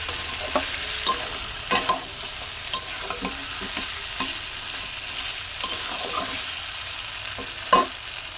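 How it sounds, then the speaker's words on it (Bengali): Chicken with salt stir-fries in oil in a pan, a constant sizzle punctuated by repeated scraping strokes and clicks of the spatula, close and without any voices. "ভালো করে কষে নেব। যতক্ষণ না মাংস থেকে তেল ছেড়ে দেয়।"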